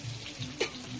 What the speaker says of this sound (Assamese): এতিয়া আলু ফ্ৰাই কৰিছোঁ